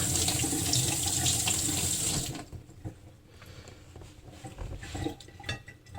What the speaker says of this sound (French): Et ensuite, je les passe à l'eau.